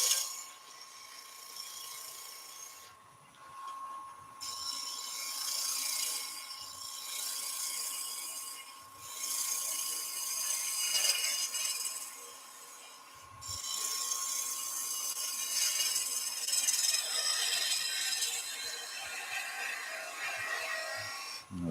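Skew chisel cutting wood on a lathe, a steady high scraping hiss in long bursts broken by short pauses, with a faint constant motor whine underneath and no talk.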